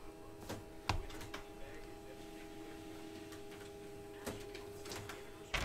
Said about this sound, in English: All right, printer, you can go for it.